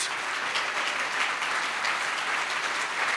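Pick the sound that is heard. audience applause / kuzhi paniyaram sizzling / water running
audience applause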